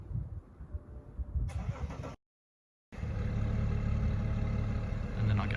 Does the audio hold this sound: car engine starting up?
yes